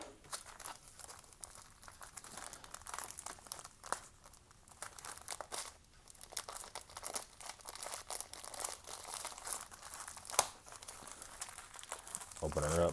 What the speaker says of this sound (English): Let's get this accessory pack opened up and see what the deal is here. Just kind of melted shut plastic.